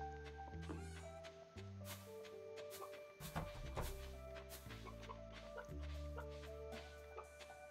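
Repeated Stardew Valley chicken clucks, short bright calls over a steady electronic music loop with low bass tones.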